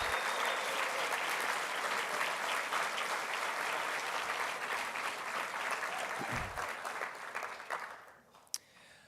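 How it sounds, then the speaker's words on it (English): An audience at the EcoCAR EV Challenge awards ceremony applauds the sponsors with loud, steady, sustained clapping that fades out over the last second, ending with a single sharp tap. "Let's give a big round of applause to all of the EcoCAR sponsors for their invaluable support"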